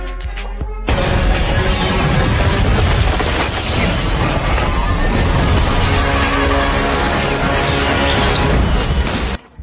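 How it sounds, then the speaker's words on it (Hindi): A loud explosion roars from the movie Dragon, with a dense, sustained crashing and rumbling blast that fills several seconds before cutting off abruptly. "एक जोरदार धमाका हुआ"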